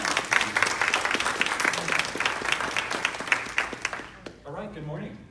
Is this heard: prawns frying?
no